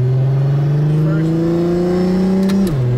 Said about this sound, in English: I'll just do a little cruise through the gears.